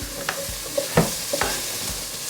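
Vegetables go into a hot soup pot for bean soup, giving a steady frying sizzle broken by a few soft knocks and stirring scrapes, close and moderately loud, with no talking.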